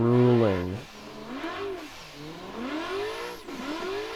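Chevrolet Corvette race car engine revving up and down through gear changes, rising and falling harmonic whine under a voice, close and sustained.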